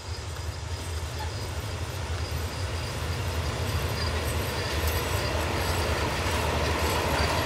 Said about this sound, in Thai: ทำขบวนโดยฮิตาชิ 4516ลายธงชาตินะครับ